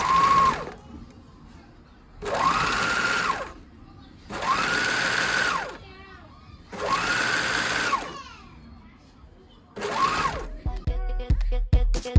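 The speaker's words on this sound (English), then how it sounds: "Then we're going to serge and sew all around as per usual." Serger and sewing machine stitch fabric in four or five rapid whirring bursts separated by short pauses, close and clear, with some handling clatter at the end.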